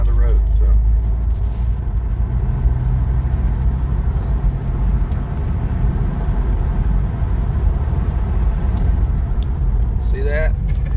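A 1997 Toyota Tacoma drives on a road, pulling right under braking, with a steady loud engine and road rumble running throughout while someone talks over it.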